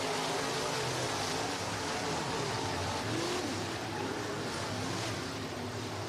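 Race cars roar down the front straightaway at Northwest Florida Speedway in Baker, Florida, a steady, dense wash of engine noise throughout, fairly distant and blended with crowd ambience, no clear rise or fall.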